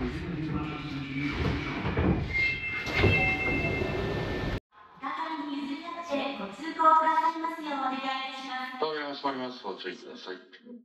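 A train sits at a platform in an Osaka station, with station noise and a sharp cut partway through. Then a recorded announcement voice and a melodic chime play over the platform.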